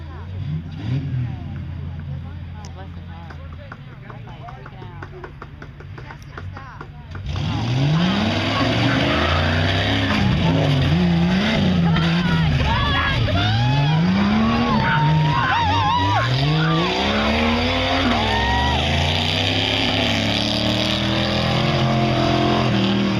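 Tough trucks race around a dirt track corner at a 2012 event, engines revving and rising in pitch loudly and continuously, with an announcer talking over the roar.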